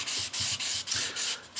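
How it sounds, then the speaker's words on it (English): Fine-grit sandpaper rubs lightly over a bare, waxy-shiny Estes model rocket body tube in a steady back-and-forth rhythm, about five close, soft scratchy strokes with brief gaps between them and no talking. "take a very light high grit sandpaper, fine grit sandpaper, and you just want to kind of go over the tube a little bit"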